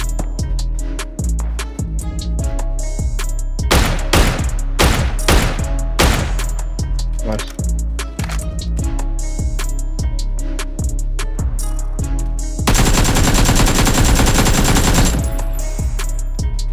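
Sustained automatic gunfire from PUBG, rapid bursts of shots running continuously with a dense, louder stretch of heavy firing near the end, with game music and effects underneath.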